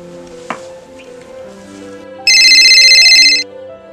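A mobile phone rings on an outgoing call, with a single loud, steady electronic ring tone of about a second starting midway, following quiet background hum and a small tap.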